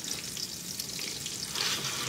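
Corn being stirred in a cooking pot, a soft, steady hiss and shuffle at close range, fairly quiet, with no speech.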